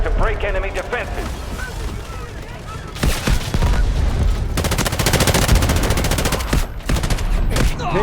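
Dense automatic gunfire and explosions from the Delta Force Hawk Ops video game, with loud continuous bursts filling the scene and a brief lull before the shooting picks up again, while players talk over the action.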